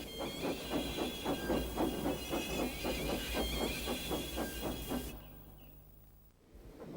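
A cartoon steam train strains to move a heavy express, giving a steady run of rapid, even chuffs for about five seconds before they stop, leaving a quieter background.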